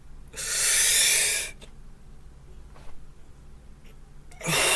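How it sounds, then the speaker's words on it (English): One long, deep breath drawn in sharply through the nose during a breathing exercise, loud and close for about a second, then quiet, with a second strong inhale starting just at the end. "Inhale."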